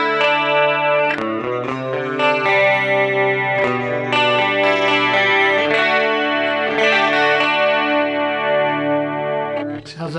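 Electric guitar through an AmpliTube Satriani amp with chorus effect, strummed chords and picked notes in a thick, shimmering, compressed tone, loud and continuous with no talk.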